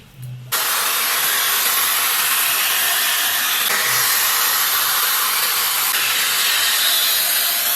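Shark FlexFusion hair styler blowing hot air, a loud steady airy hiss that switches on after a brief moment and runs continuously, with small shifts in tone as it moves.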